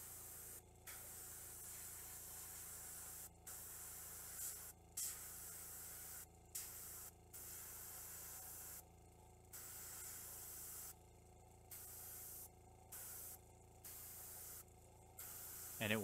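A dual-action airbrush sprays paint in short repeated bursts of soft hiss, about ten of them spaced irregularly and heard up close and alone over quiet room noise.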